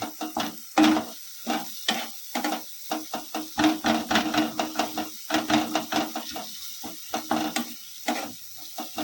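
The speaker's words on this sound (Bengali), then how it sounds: "ভালো করে মশলাটাকে কষিয়ে নেব। যতক্ষণ না টমেটোটা নরম হয়ে আসছে।" Spice paste and tomatoes sizzle and fry in a pan for chicken tikka masala, with a spoon repeatedly scraping and stirring in quick, irregular strokes close up.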